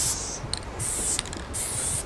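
Aerosol spray paint hisses onto a Porsche's body panels in three sharp bursts, with faint can rattles and clicks between them. Nobody speaks.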